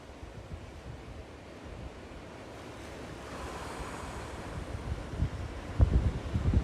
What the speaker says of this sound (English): I can take in the ocean.